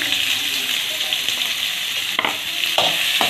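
Steady, dense sizzling of onions frying in hot oil until brown fills the clip, with a couple of brief stirring scrapes near the end.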